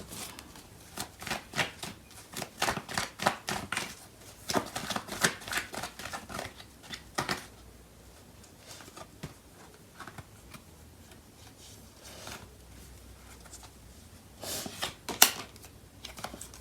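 Tarot cards being shuffled and drawn, a quick run of crisp riffling flicks and light slaps up close, pausing before a few more soft card snaps and taps near the end.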